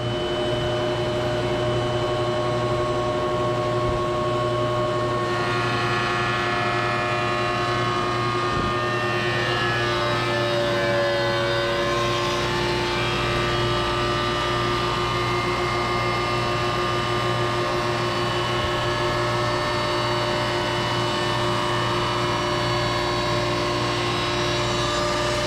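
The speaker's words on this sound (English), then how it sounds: "This is how we initiate the drum sanding mode." A JointaWood slab flattener runs steadily in drum sanding mode on a wooden slab, a loud continuous mechanical whir with a strong steady hum and shifting pitch as the drum works across the wood, with no talking.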